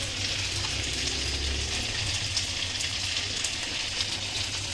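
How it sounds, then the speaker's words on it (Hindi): Sliced potatoes frying in a pan for zeera aloo, a steady, close sizzling crackle that runs evenly throughout with no talking over it. "आलू फ्राई हो रहे हैं।"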